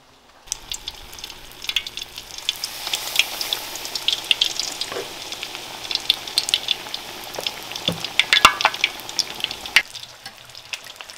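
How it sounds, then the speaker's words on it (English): Battered burrito grunt fish dropped into hot, hot oil, a sudden crackling burst settling into a busy, popping fry with sharp spatters close by, no talk. "Then here we go into the hot, hot oil."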